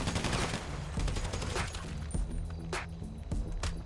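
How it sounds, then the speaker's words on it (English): Heavy sustained gunfire in GTA V, a chaotic fusillade of overlapping automatic bursts and individual sharp cracks, loud and close throughout, with brief near-silent gaps between some shots. "Start shooting."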